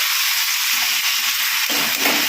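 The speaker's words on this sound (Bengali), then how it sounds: "এবার পটলের সঙ্গে ভালোভাবে মিশিয়ে নেব" Potatoes and pointed gourd being stirred together in a hot pan for a spice-free chorchori, a steady close sizzle and hiss with soft scraping and stirring movements, no talk.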